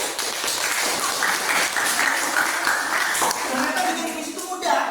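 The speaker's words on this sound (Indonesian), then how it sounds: "Woi, tepuk tangan." A group in a classroom poetry lesson claps together in a dense, continuous burst of applause, close and fairly loud, with voices mixed into the clapping.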